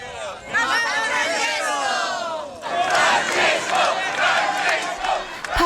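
A large crowd in St. Peter's Square, Rome, chants and shouts in unison for Pope Francis at a Wednesday general audience, a loud sustained roar that swells after a brief dip, with overlapping voices throughout.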